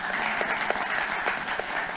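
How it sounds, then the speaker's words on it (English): After a panel discussion on climate finance, the audience gives a brief burst of steady, full applause. "Give them a big round of applause."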